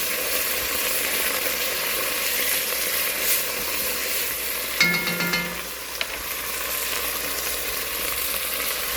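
Wine sizzles as it cooks down in a hot pan, a constant bubbling hiss with a brief stirring scrape partway through, close and fairly loud.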